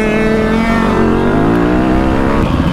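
A small motorbike engine revving at high pitch, steady and loud, its whine wavering slightly with no talking over it.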